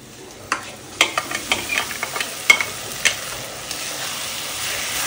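Ground spice paste fries in hot oil for Bengali tel koi, with a soft steady sizzle broken by sharp scrapes and taps of a spoon stirring the pan close by.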